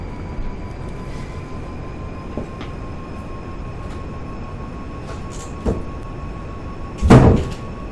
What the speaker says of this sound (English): Sorry for the loud bang. That was my room door closing.